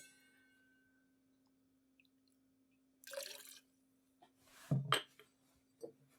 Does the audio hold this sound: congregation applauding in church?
no